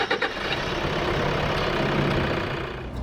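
A 2013 Toyota Hilux SW4 SRV with a 3.0 turbo diesel engine settles into a loud, steady idle after a brief starting burst, a close, continuous low rumble with no voices.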